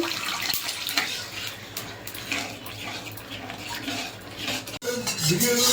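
Hot water is poured into a pan of fried masala for a catla fish curry, making a steady splashing, hissing stream with light clinks of cookware and a brief pause near the end.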